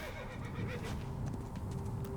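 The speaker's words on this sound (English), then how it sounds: "Hold Q to call your horse for assistance" A horse in the ancient Egyptian world of Assassin's Creed Origins gives a loud, close whinny over a constant wash of game ambience, with hoofbeats clopping faintly along underneath.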